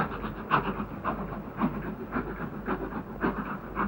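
A passenger train runs along the rails, a rhythmic clatter of wheels over the track joints with a low steady rumble and a faint hiss, with no voices over it.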